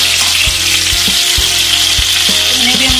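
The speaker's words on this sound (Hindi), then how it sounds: "सारी वेजीज लाइटली फ्राई करनी है, बहुत हल्की, बहुत ज़्यादा फ्राई नहीं करेंगे" Vegetables lightly frying in oil in a kadai give a steady, close hiss and sizzle, broken by a few dull knocks from stirring.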